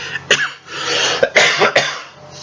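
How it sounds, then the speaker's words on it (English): Several harsh coughs close to the listener, in a short irregular burst, with raspy breaths between them. "I've got a little bit of a cough right now."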